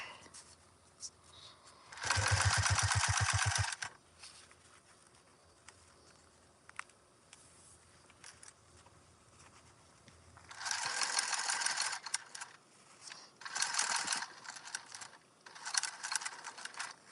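A sewing machine runs in slow, deliberate bursts while stitching a park bag seam a quarter inch from the edge, with a loud rapid whirring run followed by quieter pauses and several shorter stitching spurts.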